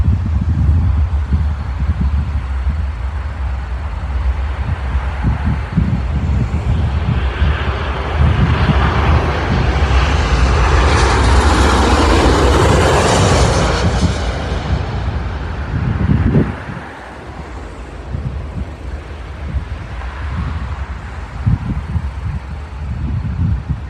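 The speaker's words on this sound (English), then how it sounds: "Here comes another aircraft." An airplane passing at Midway International Airport, a broad steady jet roar that swells to a peak midway and then fades, heard outdoors with wind buffeting the microphone and no talking.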